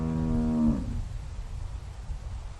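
A farm cow lets out a single loud, close moo that holds for most of a second and then cuts off, leaving low rumbling background noise.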